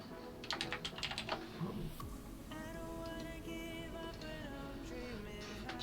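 Fingers typing on a computer keyboard, with quick bursts of clicky keystrokes followed by steadier tapping over a background tone, close and moderately loud, no speech.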